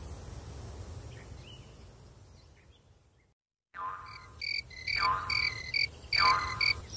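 Cricket-like chirps in a summer field sound in repeated short bursts after a brief silence, high and fairly clear over a soft background hum of outdoor ambience.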